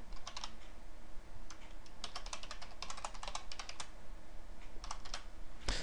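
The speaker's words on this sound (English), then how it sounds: "Let me just type this out." Rapid bursts of keystrokes on a computer keyboard while someone writes C++ Qt code, with clattering runs and short pauses throughout, close and steady with no talking.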